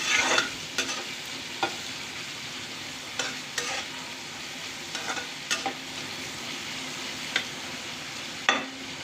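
Onions fry in oil and ghee in a pan for a breakfast dish, giving a continuous sizzle broken by sharp spatula scrapes and knocks every second or so as they are stirred, close and clear with no talking.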